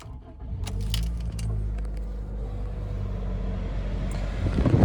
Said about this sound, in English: I'll jump in, I'll start up the car